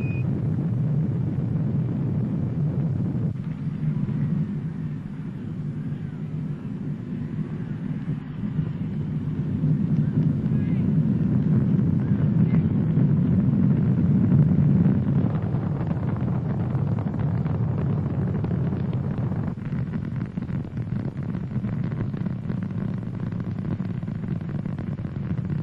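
Space Shuttle launch in April 1981 during the roll program, a steady, deep, distant rumble that swells slightly in the middle and keeps going without a break.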